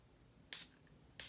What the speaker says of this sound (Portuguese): Aqui, ele libera uma quantidade generosa de perfume.